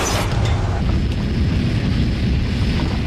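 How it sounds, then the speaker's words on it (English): Inside an airliner cabin near the cargo door, a loud deep boom bursts out at the start and gives way to a sustained heavy roar of rushing air and noise. "I heard like a thud."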